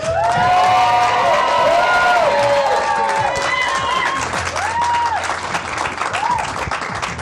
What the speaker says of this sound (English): a very well-deserved round of applause there, Celine